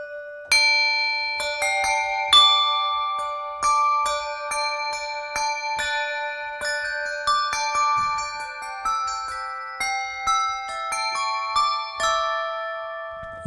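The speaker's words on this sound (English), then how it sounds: "Suspended bells." Suspended bells from the Orchestral Tools Abacus sample library ring out in a bright melodic line, each clear strike decaying into long overlapping shimmering tones with no talking.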